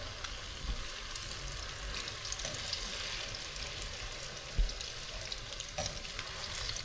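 Saging turon, banana rolls, fry on low heat in a pan with a soft, steady sizzle and crackle, plus a single sharp knock partway through.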